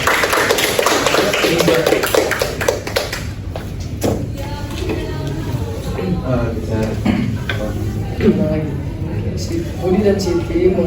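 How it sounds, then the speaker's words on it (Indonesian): A group at a marriage counselling session claps hands in a brief burst of sharp taps, and then people talk over a room murmur. "Kita tepuk tangan dulu."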